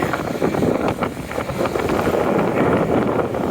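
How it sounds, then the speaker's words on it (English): Strong wind at an exposed outdoor street spot buffets the microphone in a steady, loud roar with gusting low rumble throughout, no voices. "it's very windy up here, so I gotta try to get out of the wind"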